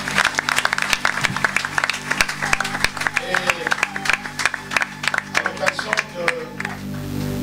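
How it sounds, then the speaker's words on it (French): Pentecost jubilee church congregation clapping and acclaiming, with sharp rhythmic claps rising and falling over a sustained musical drone, fairly close and lively throughout. "Et recevez les acclamations du peuple des jubilés."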